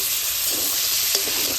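Goat meat sizzles and fries in its own rendered fat with no added oil, a steady close hiss with faint crackles and one brief sharp pop near the end.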